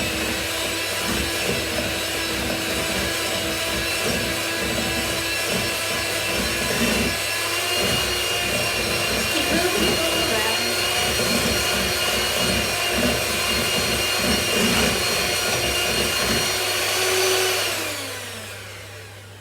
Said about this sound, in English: we're now ready to use the food mixer